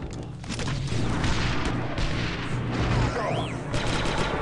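Dense blaster and gunfire rattle with booms in the Star Wars: Republic Commando video game, a loud, continuous fusillade of combat sound with game effects mixed in.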